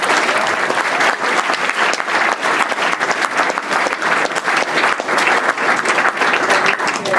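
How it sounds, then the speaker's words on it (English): A roomful of people claps for a panel of speakers at a LinkedIn event in San Francisco, a steady, dense patter of hands that stays strong for several seconds. "So I just want to round of applause for the panel there."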